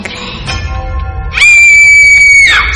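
A woman screams in a Hindi radio horror drama, one long piercing sustained shriek rising out of a murky, tense background tone and holding loudly to the end.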